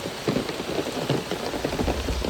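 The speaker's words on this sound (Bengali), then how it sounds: "সকালে তো প্রচুর বৃষ্টি" Heavy rain pours steadily, a dense hiss of drops drumming on surfaces close by, with no voices.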